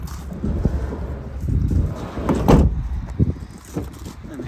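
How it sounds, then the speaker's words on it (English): The side loading door of a 2021 Ford Transit Custom 2.0 EcoBlue van slides and thuds, with a loud roll and heavy clunk near the middle followed by smaller knocks and rattles close by. "We've got our side loading door."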